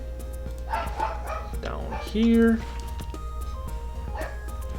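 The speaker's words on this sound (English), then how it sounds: "Sorry if you hear my dog barking in the background" A pet dog barks in the background of a room where someone is playing a game and talking, a few short sharp barks and yips heard under the louder speech.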